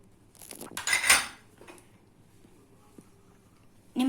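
Batter for prawn pakoda is stirred in a metal bowl with a spoon, giving a loud burst of clinking and scraping early on, then quieter intermittent taps near the end.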